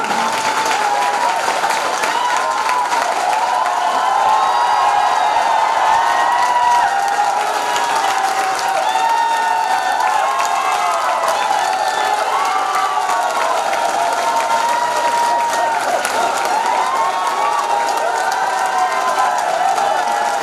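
A live audience at a mega show in Mirzapur, Panchtala claps continuously, a dense sustained wave of applause with scattered cheers and shouts woven through, loud and close, with excited voices rising in the crowd.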